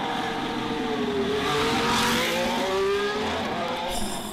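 A Haas VF-23 Formula 1 car out on track, its high engine whine climbing and falling through gear changes, loud and continuous as it passes.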